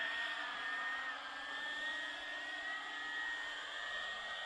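DIY thrust-vectoring ducted fan tailsitter hovering, giving off a steady high-pitched whine and rushing air roar at constant strength, moderately close, with no talking.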